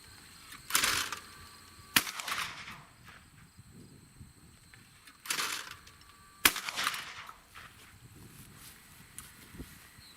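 A Fabarm L4S Grey Hunter shotgun fires at clay targets outdoors: a few sharp reports spaced several seconds apart, somewhat distant and quiet, with faint footsteps and rustling between shots.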